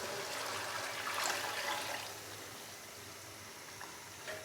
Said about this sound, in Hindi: तो अभी मैं इसके अंदर पानी डालूंगा।